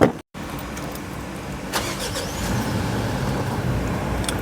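A Mitsubishi Triton single cab four-wheel-drive pickup truck engine cranks and catches, then settles into a steady, rumbling idle close by.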